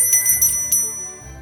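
A small bell rings brightly, a few quick struck chimes with long shimmering overtones that fade out, clear and close without any voices.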